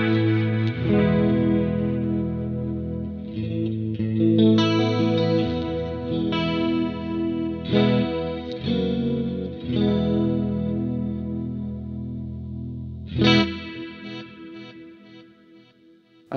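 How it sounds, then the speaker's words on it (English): An electric guitar runs through the 120 chorus preset on a Harley Benton DNAfx GiT multi-effect processor, sounding strummed chords with a shimmering, slightly distorted chorus effect, played alone and fairly loud. "Next preset is called 120 chorus."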